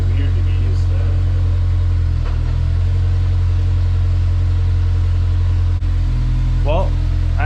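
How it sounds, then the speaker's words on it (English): A car with a bad clutch running up on stands, its engine humming steadily and loud while a wheel spins freely, with someone talking over the drone. "as soon as I let any pressure off the clutch pedal, the wheel spins"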